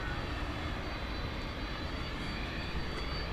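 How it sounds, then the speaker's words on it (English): A UPS Boeing 767 freighter jet departs at night from DFW Airport, its engines a continuous broad roar heard from a distance, steady and fairly quiet throughout. "So here goes the 767 off to Louisville."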